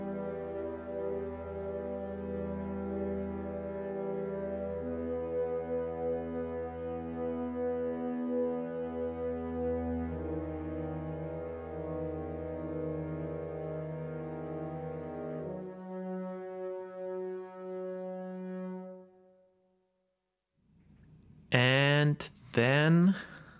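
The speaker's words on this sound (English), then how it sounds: "I also got some trumpets, very dark drone sounds." Dark, low trumpet drones from a James Bond style orchestral arrangement in Cubase, sustained brass chords layered for about twenty seconds before fading, followed by a short burst of brighter, louder sound near the end.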